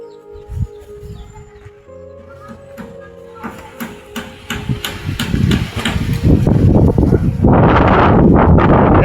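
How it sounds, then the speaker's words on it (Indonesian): Strong wind after a stormy night gusts around a house whose asbestos wall was torn open, building into a loud, rushing roar over the last few seconds, preceded by scattered mechanical clatter and knocking nearby. "Yang deh, angin gede"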